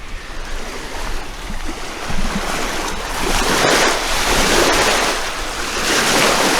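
Strong wind gusts across the microphone at a roadside viewpoint in Cassiar Provincial Park on Highway 37, a loud, continuous roar that swells and builds toward the end.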